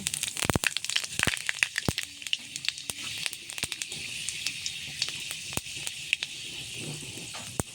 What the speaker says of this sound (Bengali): তেল গরম হয়ে গেছে, এবার পাঁচফোড়ন দিয়ে দেব।